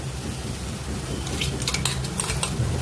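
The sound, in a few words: masala paste being sautéed in a pan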